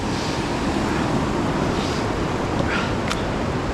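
The Youghiogheny River at Cucumber Rapids, running about three times normal height at 8 feet, roars as a steady broadband rush of whitewater over a boulder field, continuous and fairly loud with a faint breeze on the mic.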